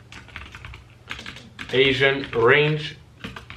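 Computer keyboard typing into a trading platform's indicator search bar, a few light clicks early on, soon overtaken by louder voiced sounds in the middle.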